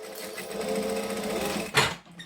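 A sewing machine runs steadily, stitching fabric in a continuous close hum for about two seconds before a short louder whir as it stops, with no talking.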